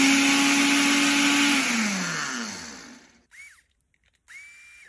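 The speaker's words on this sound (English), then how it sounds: "I'm going to break these up in the blender." A kitchen blender grinds toasted sesame seeds into powder, a loud close whirring whine that winds down as the motor slows, followed by two short restarts separated by silence.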